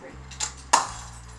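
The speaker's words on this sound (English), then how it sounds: "Keep in mind with the light bulbs, they don't always break on the first try." Light bulbs shattering during a high-speed photography test, two sharp glassy cracks a fraction of a second apart over a steady low hum, the second one louder.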